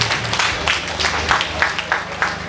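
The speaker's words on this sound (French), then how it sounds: "On le remercie. Applaudissez-le." An audience at a mass and speeches ceremony breaks into scattered applause that swells in uneven bursts, moderately loud and close, with a faint murmur beneath.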